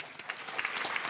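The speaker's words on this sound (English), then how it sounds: "we would like to ask for a round of applause to thank all of our wonderful parents" A brief burst of audience applause for parents at a school honors night, a dense, even patter of many hands clapping without voices on top.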